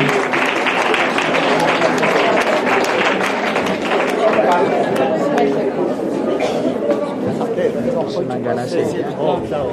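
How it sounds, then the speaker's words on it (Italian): A school audience of students applauds to welcome the town's mayor, loud continuous clapping mixed with crowd chatter and voices throughout. "accogliamo con un applauso il sindaco del vostro comune"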